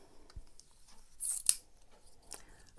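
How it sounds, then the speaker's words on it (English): A few sharp cutting snips of an X-Acto craft knife through paper, with a brief brighter slice near the middle, quiet and close in an otherwise still room. "X-Acto knife to cut it out."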